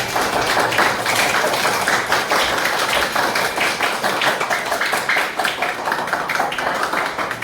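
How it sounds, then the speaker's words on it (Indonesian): Schoolchildren in a fifth-grade Indonesian class clap their hands together, a dense, steady patter of many small hands filling the room throughout, fairly loud with no voices over it. "Tepuk tangan lagi sekali"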